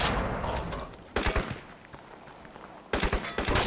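Gunfire in the video game Crysis comes in two short bursts of rapid shots against a noisy jungle-like background, moderately loud and close.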